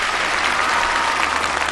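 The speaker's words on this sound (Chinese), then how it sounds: "我们先把掌声送给几位老师好不好？" A studio audience at a televised traditional Chinese music gala applauds the performers after a stage performance, a loud, dense and steady clapping that fills the whole moment, with no voices.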